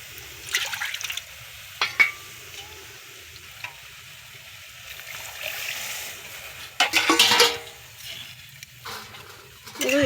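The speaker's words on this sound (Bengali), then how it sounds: "দেখো বন্ধুরা আমরা এটা কিন্তু এবার ডালটা দিয়ে দিলাম, তাতে কিছুটা জলও দিলাম।" Water poured into a cooking pot of masoor dal (red lentils) in a home kitchen, a close splashing and sizzling pour in uneven bursts with a louder gush near the end.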